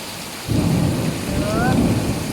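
Heavy rain pours steadily outside, a dense continuous roar with a low rumble swelling in partway through, loud and close with no voices.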